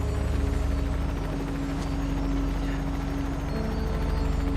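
Helicopter engine and rotor in a loud, close, steady drone with a rapid pulsing chop, unbroken from start to finish and alone without voices.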